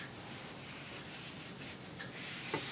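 Paper folded by hand without a bone folder, a soft, steady rustling and rubbing close by, with a slightly louder crisp crease toward the end.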